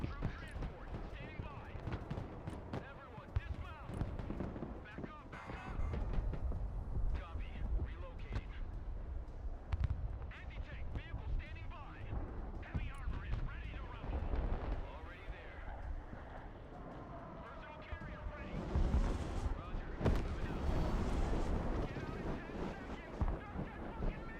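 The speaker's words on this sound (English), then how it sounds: "I sent HIMARS Barrage over here on Charlie" A HIMARS rocket artillery barrage lands in the video game Broken Arrow, a run of heavy rumbling booms and crackling impacts that rise and fall under steady talk.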